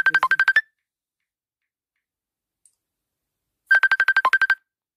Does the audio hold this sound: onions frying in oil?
no